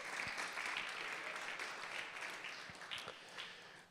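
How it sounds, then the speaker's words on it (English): An audience at a supply chain and logistics summit applauds, a dense, steady wash of clapping that holds for several seconds and then fades, heard at a moderate distance. "a round of applause for everybody who has been working around the clock"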